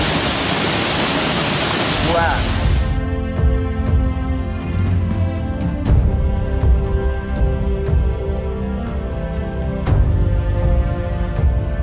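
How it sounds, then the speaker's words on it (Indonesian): Rushing roar of the Tarisit waterfall, a local tourist spot, loud and broadband for a few seconds before cutting away to music. "Air terjun Tarisit kini menjadi objek wisata lokal oleh masyarakat sekitar."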